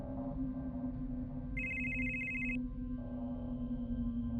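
A telephone gives a single electronic ring lasting about a second. It sounds over a steady, droning background hum.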